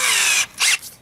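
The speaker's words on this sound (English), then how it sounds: "I'm going to put my wire brush on my drill" Power drill fitted with a wire brush attachment spins up in a loud, close whine, cuts out, then gives a second shorter burst before trailing off.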